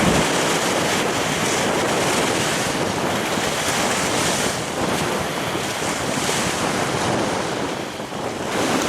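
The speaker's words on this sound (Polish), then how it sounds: "I znowu zmaga się coraz większy, coraz silniejszy wiatr." Strong, steady wind roars across an Australian sea shore, buffeting the microphone with a constant broadband rush mixed with surf, loud and unbroken, with no voices.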